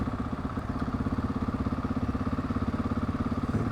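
A middleweight adventure motorcycle running in city traffic: a steady, throbbing engine pulse at a low, even idle-like rhythm, close and continuous, with no speech.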